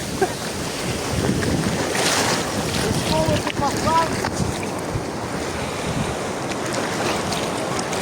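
Sea waves washing onto an Italian beach, a steady broadband wash with wind buffeting the microphone throughout, and a faint voice briefly in the background.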